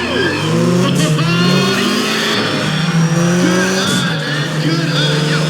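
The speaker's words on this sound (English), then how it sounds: "Will you listen to those engines?" Race car engines in Need for Speed ProStreet rev loudly and continuously, several motors whining and climbing in pitch together, with tire noise and a voice over the roar.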